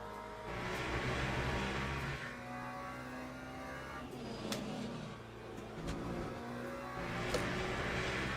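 A McLaren GT3 race car in the Le Mans Ultimate racing game drones steadily through a lap, its engine note rising and falling through gear changes, with a voice talking quietly over it.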